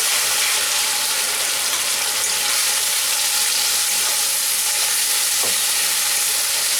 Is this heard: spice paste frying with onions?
yes